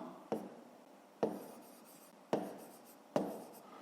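Pen on paper during a fifth-grade math exercise: four short scratchy strokes, each starting with a sharp tap and trailing off, spaced about a second apart, quiet and close, with no voices.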